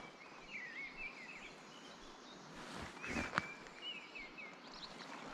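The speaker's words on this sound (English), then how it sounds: "Listen to the birds." Birds chirp and sing faintly in the distance over quiet outdoor ambience, with a brief rustle near the middle.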